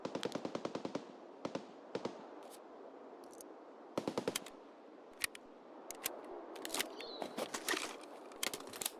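Automatic rifle fire emptying a full magazine in the shooter Escape From Tarkov, clusters of crisp rapid bursts with short gaps between them, moderately loud over a hushed outdoor ambience.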